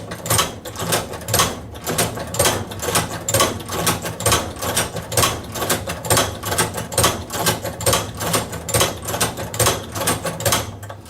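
A hand-operated Cowboy Outlaw leather sewing machine stitches leather, its handle pulled in a steady, regular rhythm, with each stroke making a close, loud mechanical clunk and thump. There is no talk.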